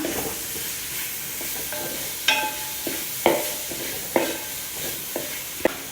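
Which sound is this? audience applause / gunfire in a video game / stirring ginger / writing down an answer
stirring ginger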